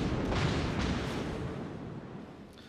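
A warship's main battery salvo fires in a World of Warships ranked naval battle, a heavy booming roar of big guns that swells early, with a couple of sharper reports inside it, then rumbles and fades slowly.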